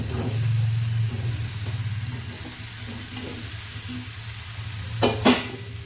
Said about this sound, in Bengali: দিয়ে এবার নেড়ে ফেলে মশলাটাকে ভালো করে একটু কষিয়ে নেব।